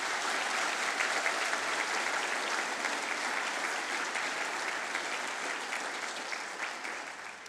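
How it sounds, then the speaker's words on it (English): Sustained applause from an audience at a school academic awards ceremony, an even wash of many hands clapping at moderate volume, with no speech over it and a slight taper toward the end. "Can we give all of those students a round of applause,"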